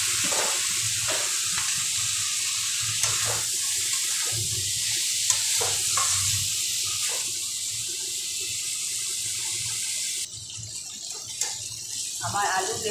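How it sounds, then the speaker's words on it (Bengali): Potatoes and eggplant fry in a spice paste, a constant loud hiss and sizzle filling the whole stretch, with scattered stirring knocks and a voice speaking at times underneath. "আমি এখন আলু বেগুনগুলো এর মধ্যে দিয়ে দিই।"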